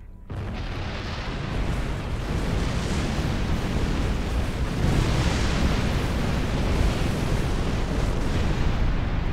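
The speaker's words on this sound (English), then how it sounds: "You are so quick to blow things up." Detonated charges exploding in the video game Star Trek Online: a sudden loud blast rolling into a long, roaring, rumbling wash of debris and fire that holds steady for about nine seconds, without voices.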